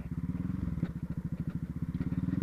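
A Honda CB Twister 2019 motorcycle rides along a sandy dirt road, its single-cylinder engine thumping in a steady, rapid pulse, close and moderately loud, with no talking.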